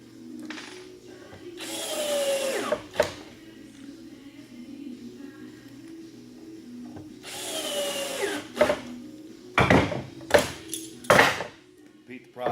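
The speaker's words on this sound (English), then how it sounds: "Run your screws." A power drill drives screws into clamped wood in a home-repair job, two long whirring bursts each ending in a sharp bind, then several short trigger pulses near the end, close and loud, with a voice speaking between runs.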